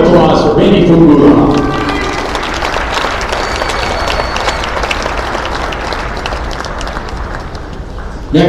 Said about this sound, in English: One more round of applause for Benny Fumbura